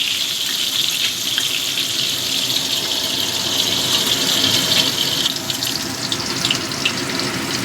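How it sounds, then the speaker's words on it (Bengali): Papaya pieces fry in hot oil for a goat curry with potatoes, giving a steady, loud bubbling sizzle that runs unbroken from start to finish with no voices. "আলুগুলো ভেজে নিই তারপর পেঁপেগুলো ভাজবো"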